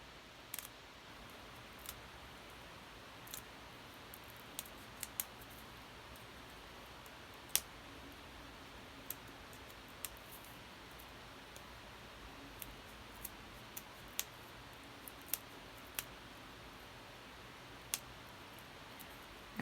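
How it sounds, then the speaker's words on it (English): Scissors snipping through foam adhesive sheet while cutting out a detail piece, giving sparse, sharp little clicks and snips at irregular intervals over a faint, steady background hiss. "I'm just taking my scissors and"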